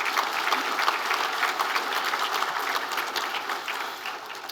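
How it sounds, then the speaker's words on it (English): Audience applause at a regional chamber of commerce annual meeting, a steady dense clapping from a large crowd that holds evenly for several seconds, with no talk over it. "Can we please give all of our sponsors a great round of applause?"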